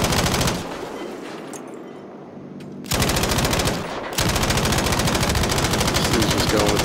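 Machine-gun fire from Battlefield V in a Conquest match on the Narvik map. Loud, sustained automatic bursts crackle close by, with a brief lull and then another long burst.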